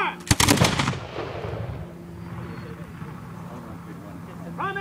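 A King's Arm .75 caliber smoothbore musket volley fired at a fort demonstration, one loud close blast that booms and decays over a second, followed by a quiet outdoor hum and a voice at the end.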